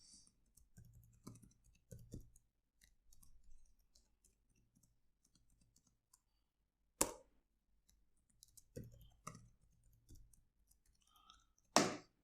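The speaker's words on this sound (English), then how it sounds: "I'm typing a long password" Sparse, quiet keyboard clicks come in short clusters separated by pauses, with a couple of sharper, louder taps standing out.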